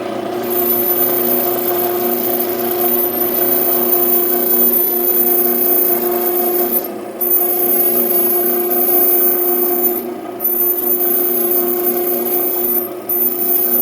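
Drill bit boring holes through stock for John Deere 320 tractor hood bushings, started in an existing hole: a loud, steady machine whine with a high ringing tone, briefly dipping several times as the cut is eased.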